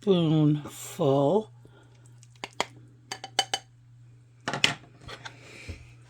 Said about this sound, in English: So I want to just dig in here just to get a little spoonful